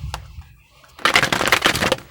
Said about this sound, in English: 3 more shuffles, and I'm going to pull from the top.